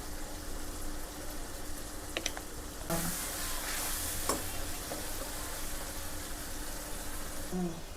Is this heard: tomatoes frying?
yes